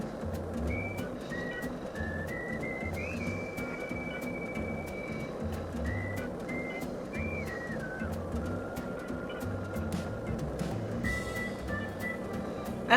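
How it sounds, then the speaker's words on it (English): Whistling in the video game Deadly Premonition 2 carries a faint, wavering tune of sliding held notes over a rumbling, rhythmic in-game background, with no talk. "Oh, there's the whistling."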